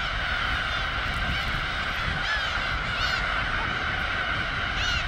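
Black-tailed gulls calling harshly while threatening a falcon at a nesting colony, their repeated cries rising over a dense, steady background din of many birds.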